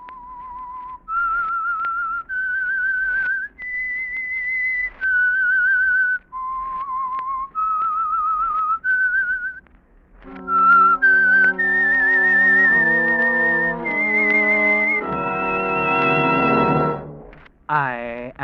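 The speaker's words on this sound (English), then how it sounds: "That whistle is your signal for the Signal Oil Program" A single performer whistles the eerie theme of The Whistler radio program. A clear, solo melody of sustained notes gives way to a fuller orchestral swell that carries the tune to a close, recorded on an old radio broadcast.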